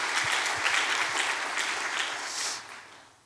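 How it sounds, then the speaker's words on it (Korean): Sustained applause from a church congregation at a Korean revival meeting, a dense wash of many hands clapping that holds steady and then fades out near the end, with no talking over it. "박수를 한번 받습니다"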